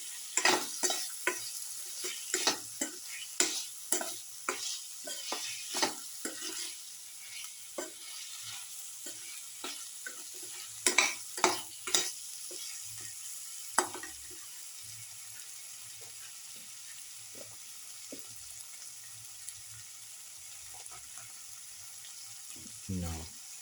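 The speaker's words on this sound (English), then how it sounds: "Saute thoroughly and mix." A spinach and paneer mixture sautéed and stirred in a pan, a spoon scraping and knocking in quick repeated strokes over a soft, steady sizzle, busier at first and then thinning to occasional stirs.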